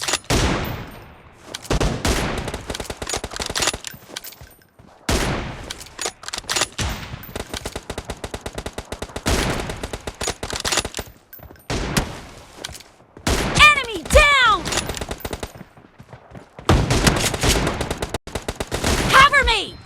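Rapid automatic gunfire in PUBG Mobile team deathmatch, loud and close, comes in long sustained bursts separated by short pauses, with a few brief gaps of near silence.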